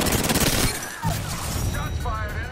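Gunfire in Apex Legends opens with a dense, loud rattle of rapid shots, then gives way to lighter noise with voices talking.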